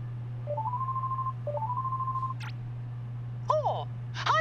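A gummy phone rings in Kingdom Hearts 3 with two bursts of a rising electronic trill, then short chirping connection tones that sound over a steady low hum, with no voices.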